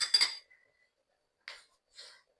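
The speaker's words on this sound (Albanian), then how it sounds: "tani do marr një pjatë" A plate picked up in a home kitchen while a banana is being prepared for a cake: a bright clatter of ceramic against dishes, followed by two softer, separate clinks after a brief pause.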